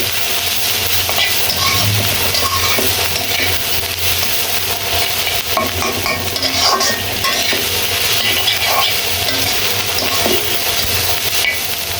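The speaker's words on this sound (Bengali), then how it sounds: "এখন কাঁচামরিচ আর নাগামরিচ দিয়ে দিচ্ছি, আবার নেড়ে চেড়ে দিচ্ছি।" Green chillies and naga chillies are stirred into bitter gourd frying in a pan: a steady close sizzle runs throughout, with scraping strokes of the spatula scattered across it and no talk.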